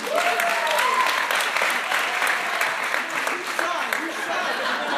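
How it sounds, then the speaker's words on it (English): An audience claps and cheers for a performer at a comedy show, dense sustained applause throughout with a few voices calling out over it. "Can we give a round of applause for Matthew?"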